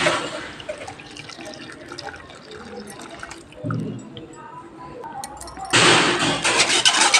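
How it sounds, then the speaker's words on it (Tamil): Cucumber juice pours and trickles through a sieve, splashing into a container below, with occasional clinks and a louder gush near the end. "ஒரு வடிகட்டில் இப்போ நம்ம வடிகட்டிடலாம்."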